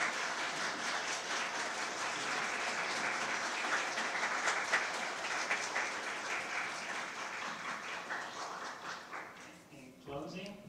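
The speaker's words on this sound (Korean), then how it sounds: "다시 한번 큰 박수 부탁드립니다." Sustained audience applause follows a Nobel laureate economist's guest lecture in a Korean hall, broad and even for about ten seconds before tapering off near the end.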